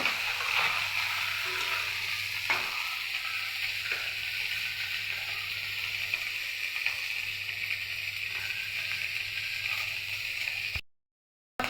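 A continuous loud sizzle of taki fish (spotted snakehead) frying in hot oil in a pan, steady throughout with a few light clinks, then cutting off abruptly at the end.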